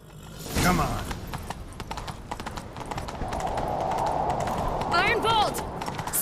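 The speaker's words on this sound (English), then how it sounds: "Grab a horse, we'll chase him down." Horse hooves clattering in a fast gallop during a chase in The Witcher 3, rhythmic clip-clop beneath game ambience, with a brief whinny-like sweep near the end and voices speaking over parts of it.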